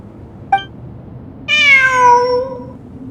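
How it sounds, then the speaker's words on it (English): A cat in the Genshin Impact video game gives a brief chirp, then a longer, clear, drawn-out meow that falls in pitch, heard close and alone over a faint background hum. "I'm not hearing things. It really is a cat."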